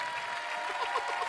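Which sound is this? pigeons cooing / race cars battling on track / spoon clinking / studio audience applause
studio audience applause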